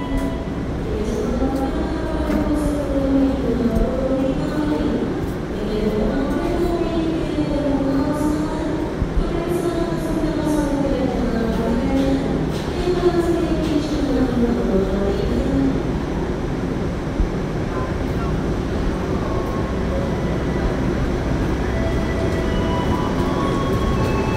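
A Gaya Baru Malam Selatan train stands at Purwosari station in Indonesia, giving off a steady low rumble with wavering, sliding tones that rise and fall throughout, with no talking.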